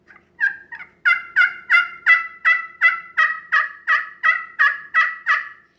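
A glass pot turkey call played with an ash hardwood striker gives a series of about a dozen sharp, evenly spaced yelps, loud and close, rising into a steady rhythmic run with no talking.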